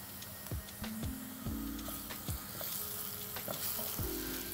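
Ginger-garlic paste and asafoetida hit golden-brown onions in a pan for a Koli-style squid masala, giving a steady close sizzle broken by repeated rhythmic spoon scrapes.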